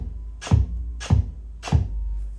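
Deep 808-style electronic bass drum from a DJ routine, struck three times at a steady pace with each hit pitched to a different note, booming and close with a sharp attack and short decaying tail.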